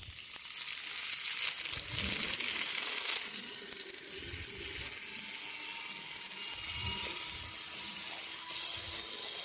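Small homemade DC motor fitted with a weak permanent magnet, spinning fast on 3.7 volts, giving a steady high-pitched whine with faint rattly buzzing underneath, close and continuous for the whole stretch.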